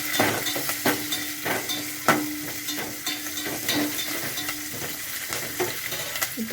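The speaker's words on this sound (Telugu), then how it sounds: "కొత్తిమీర, కరివేపాకు అండ్ పొడవుగా చీల్చుకున్న పచ్చిమిరపకాయలు ఇవన్నీ బాగా ఫ్రై చేసుకోవాలి." Coriander, curry leaves and slit green chillies frying in hot oil for cashew rice, a steady close sizzle broken by repeated sharp scrapes and clinks of a stirring spoon against the pan.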